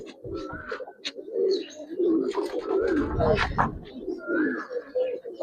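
Giribaz and coloured pigeons coo in a steady, close run of soft throaty calls, with a few chirps and some background voices mixed in.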